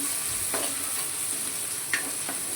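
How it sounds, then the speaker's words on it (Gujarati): Chopped onion frying in a pan for Gujarati-style batata poha, a steady loud sizzle throughout with a few faint scrapes and taps from stirring; no talking. "એના પછી ડુંગળી નાખી દઈશું થોડી વધારે કટિંગ કરી દઈ તો થોડી રહેવા દઈશું એના પછી ફેરવી લઈશું"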